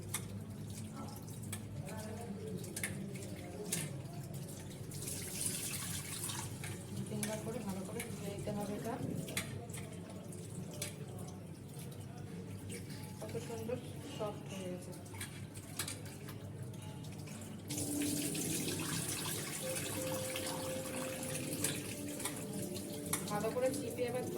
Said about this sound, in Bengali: ঠান্ডা জল দিয়ে ভালো করে ধুয়ে নিতে হবে